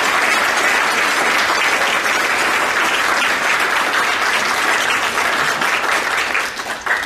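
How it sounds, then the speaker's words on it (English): An audience at a San Jose afternoon Q&A session gives the speakers a full round of applause, dense and loud, sustained for several seconds before tapering off at the end. "if we can have a round of applause for our speakers today"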